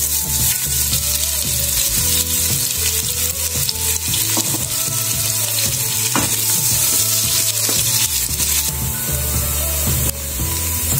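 Onions fry in hot oil in a pan, with a loud, continuous sizzle and repeated stirring clatter and scrapes throughout, close up.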